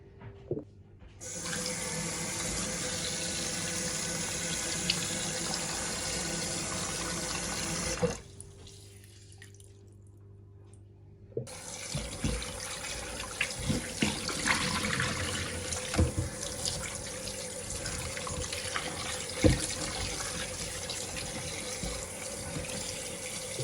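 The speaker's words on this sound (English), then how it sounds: "So I'm just gonna wash it off now with some lemon juice." Tap water runs steadily into a sink as chicken wings are rinsed with lemon juice for Jamaican jerk wings, stopping briefly partway and then resuming with splashing and clinks of handling.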